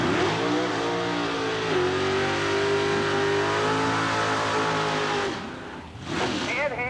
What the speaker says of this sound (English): Ed Hamlin, the Cardinal Express, the 2682 Chevrolet Corvette.